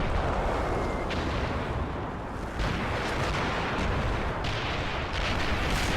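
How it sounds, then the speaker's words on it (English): Artillery fire from a German 88 gun in a WWII tactics game, continuous loud rumbling blasts and explosions over about six seconds with several sharp reports layered into a dense roar. "the 88 fires back, and oh, just another explosion"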